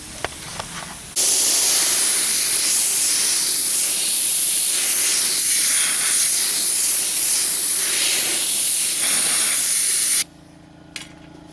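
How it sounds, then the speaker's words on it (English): Angle grinder knocking weld splatter off a steel trunk patch on a 1968 AMX, a loud steady hissing grind running for about nine seconds before cutting off abruptly. "I'll grind this off"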